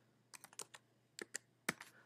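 Keys tapped on a computer keyboard while entering text for an iOS 9 untethered jailbreak, a short burst of quick, close clicks followed by a few spaced presses, quiet and with no talk.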